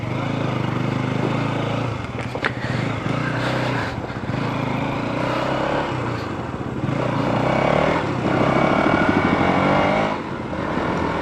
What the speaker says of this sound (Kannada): ಗಾಡಿ ಸ್ಟಾರ್ಟ್ ಮಾಡಿ.